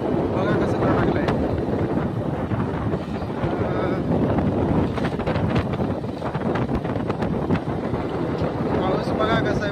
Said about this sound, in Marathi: आज कारण का जोरात वारा पाणी चालू आहे मित्रांनो